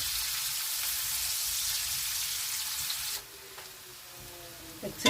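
Onions frying in a pan, a steady close hiss of sizzling oil for about three seconds, then dropping away to faint quiet with a light clink at the end.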